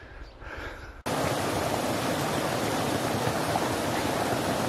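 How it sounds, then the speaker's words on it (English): A small side stream flowing across a hiking trail in the Pecos Wilderness, a close, steady broadband rush of running water that starts abruptly after a quieter second of outdoor ambience. "This is a little side stream that crosses the trail."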